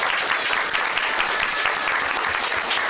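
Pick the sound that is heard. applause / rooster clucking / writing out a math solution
applause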